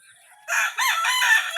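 Laying hen in a backyard flock giving a loud, close squawking cackle, a short burst of rising and falling calls with no talk.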